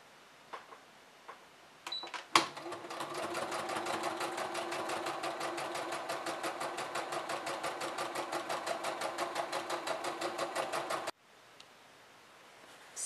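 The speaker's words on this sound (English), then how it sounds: "I'm adding some free motion stitch just to make it a little bit more artistic." Sewing machine free-motion stitching on fabric appliqué for an apron, a fast steady mechanical chatter running about nine seconds after a few clicks, then cutting off abruptly.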